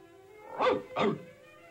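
Two sharp dog barks in quick succession, fairly close, followed by quiet.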